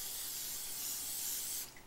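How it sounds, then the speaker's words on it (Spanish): Cooking oil spray hisses steadily onto a hot waffle iron in a kitchen, one continuous close burst lasting most of the moment before cutting off abruptly. "vamos a ponerle aceite en spray para que no se nos quede"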